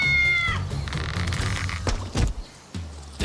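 A clear cat meow opens the clip, followed by scattered thumps and rustling sounds nearby.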